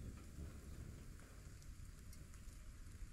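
Steady rain pours down in the survival game Stranded: Alien Dawn, a continuous dense hiss of drops falling on surfaces, even and unbroken throughout, with no voices.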